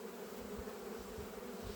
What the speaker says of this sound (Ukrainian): подивіться, це вже все молода бджола виходить